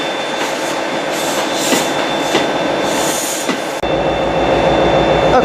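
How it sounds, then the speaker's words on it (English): Great Western Railway train 43035 arriving at a station in Devon: a loud, steady rumble of rolling wheels with rhythmic clicks over the rail joints and a faint squeal. No voices. "the train that's just arrived here is the 1304 Great Western Railway service to London Paddington from Penzance."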